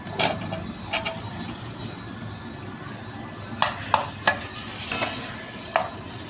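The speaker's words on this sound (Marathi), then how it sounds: "आता भाज्या टाकलेल्या आहे आणि हलवून टाकलेलं आहे" Vegetables frying and being stirred in a pan for veg pulao, with a low steady sizzle under a handful of sharp scraping clinks from the spoon, in two bursts near the start and end.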